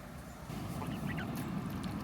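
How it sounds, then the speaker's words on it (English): A few geese honk and cackle faintly in a low, busy flock murmur outdoors, close but soft. "But here are the geese."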